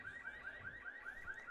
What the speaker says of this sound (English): There's that alarm again.